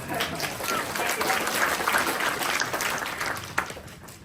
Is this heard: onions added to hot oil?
no